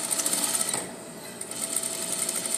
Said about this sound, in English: I'm going to sew a 1/2 inch seam,